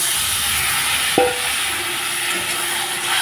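Water poured into spice paste frying in oil with chilli powder; a sharp burst of hiss around the middle, then a steady bubbling sizzle that continues close by, with no talking.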